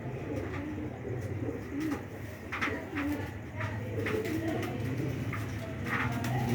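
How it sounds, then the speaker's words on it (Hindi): Several pigeons kept for sale coo nearby in soft, repeated low calls, overlapping and irregular against a steady background murmur. "बड़ा कबूतर है"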